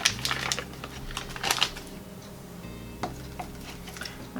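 A knife dices cold butter-flavored Crisco shortening on a cutting surface, making quiet irregular tapping clicks, some in quick clusters and others spaced apart.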